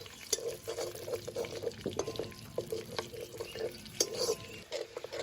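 Whole spices being fried for a tempering in hot oil: bay leaf, cumin, whole garam masala and a dried chilli, for a jackfruit and prawn curry. Busy crackling and stirring clatter, close by and steady, with a few sharper scrapes.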